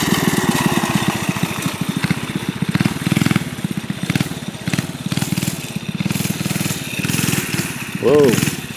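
A mini bike's small engine revving and puttering in pulsing bursts, loud and close, with people talking over it.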